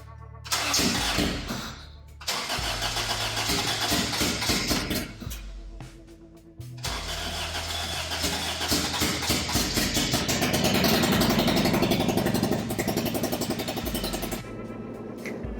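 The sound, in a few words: Honda Integra race car engine first startup with bad misfire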